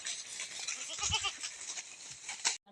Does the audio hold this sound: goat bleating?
yes